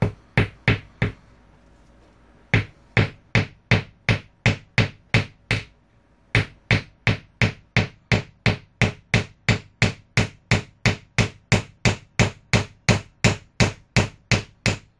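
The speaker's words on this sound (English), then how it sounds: "It's a lot more work to hammer this one in than it is the others." Hammer blows drive small nails into a hole on a tank build, ringing out in a long steady rhythm of sharp close strikes with a couple of brief pauses.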